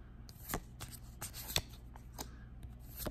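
Magic: The Gathering Kaladesh trading cards being flipped through quickly, a steady run of crisp papery snaps and rustles close up, with sharper flicks spaced through it and no talking.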